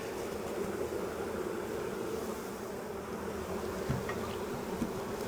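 A steady, dense buzzing of many honey bees at a hive in a heat wave hums continuously, with a few brief closer passes standing out.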